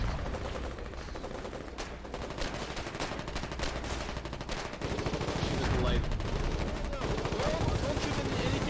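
Dense, continuous gunfire in the war game Foxhole as troops shoot at a border base, rapid overlapping shots and automatic bursts in a loud, cluttered battle mix, with voices shouting underneath.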